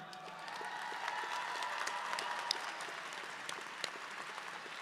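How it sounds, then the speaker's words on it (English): A seated audience at a university convocation ceremony gives award recipients a round of applause, an even, fairly distant wash of many hands clapping that holds steady for several seconds. "a round of applause for all of the award recipients"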